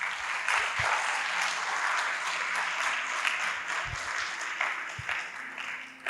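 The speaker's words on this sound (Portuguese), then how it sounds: "Você pode aplaudir o Senhor por isso?" A church congregation claps together in sustained, dense applause that holds steady and fills the room, with a few low thumps underneath.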